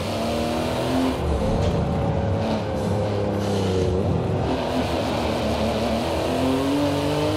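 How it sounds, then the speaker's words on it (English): A race car engine in Forza Motorsport 7 revs and climbs through the gears, its pitch rising and dropping with each shift in a loud, continuous drone that dominates throughout. "Listen to that sound of that vehicle."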